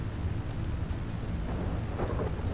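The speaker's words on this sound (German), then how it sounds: "Boah, wie geil das aussieht mit dem Gewitter." A continuous thunderstorm roars in the GTA 5 Online video game, with dense rain and deep rumbling that stays loud and steady throughout with no voices.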